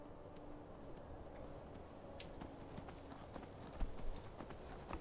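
Horse hooves clip-clop steadily on the ground in the video game Skyrim, a continuous close gait with a faint background hum and no talking.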